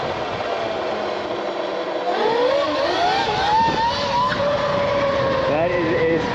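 Surron L1e electric motorbike with a 30 kilowatt motor accelerating hard, its rising whine sweeping upward in several climbing tones over steady road and wind noise.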